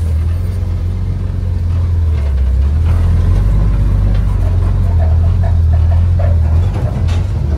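A vintage M37 wrecker truck crawls off-road in second gear, its engine a loud, steady low rumble that stays constant throughout, with faint rattles and knocks over the drone.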